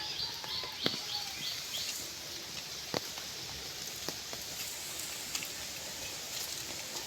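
Steady rain falls on a rainy day, a dense continuous patter with scattered sharper drips and a few faint bird chirps mixed in, no talking.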